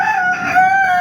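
An expensive hen with scabby bumps on its beak and comb gives a drawn-out, crowing-like call lasting about a second, close and loud with no talking.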